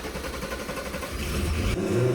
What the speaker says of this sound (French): J'entends le bruit du Versys